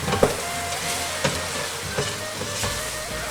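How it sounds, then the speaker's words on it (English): Spices fry in a pot for a yellow bean stew, giving a steady close sizzle as they are stirred, with a few soft scrapes and knocks of the spoon. "we'll give this a stir"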